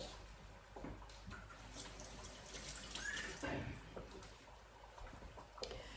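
A kitchen tap runs steadily, wetting a cloth used to wipe jar rims while making tutti frutti jam; a close, even hiss of flowing water with slight splashing throughout.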